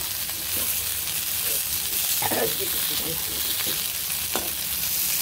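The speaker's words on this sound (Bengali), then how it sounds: "এটার এই সাইডটা ভাজতে হবে একটু।" Food fries in a small amount of oil in a wok, a continuous close sizzle with a few scraping stirs and light knocks breaking through.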